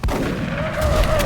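Shotgun fired in the video game XCOM Enemy Within, one loud close blast with a booming low tail fading over about a second.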